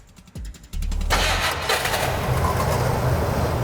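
A small-block V8 car engine cranks briefly, catches, and settles into a loud, steady rumbling idle with a deep low-end throb.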